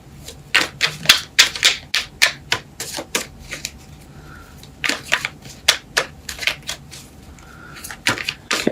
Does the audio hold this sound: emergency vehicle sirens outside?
no